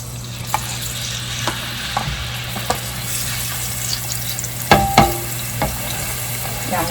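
Onion and garlic fry in a pan for tomato pasta, a continuous close sizzle under a low steady hum, punctuated by several sharp clicks and scrapes of stirring, one louder clatter near the end.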